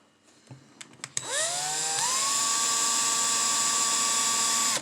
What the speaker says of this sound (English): The next part comes to drilling.